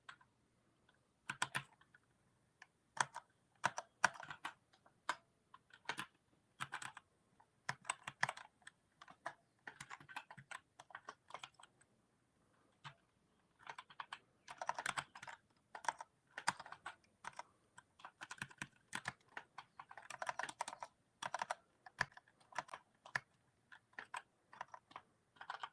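Someone types on a computer keyboard in quiet, irregular bursts of close keystrokes separated by short pauses, with no other sound.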